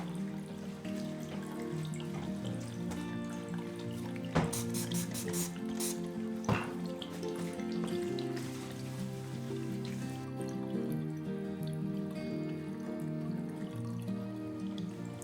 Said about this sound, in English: with running water for 5 minutes. So let's get that going.